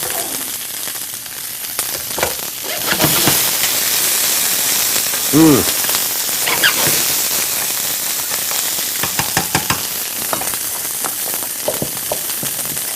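Chopped garlic hits a hot pan and sizzles loudly, a dense crackling hiss with scattered pops. A voice talks briefly over it.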